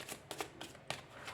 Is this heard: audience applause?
no